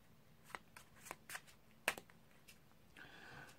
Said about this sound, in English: we'll start by giving them a bit of a shuffle just to make sure that they're completely mixed up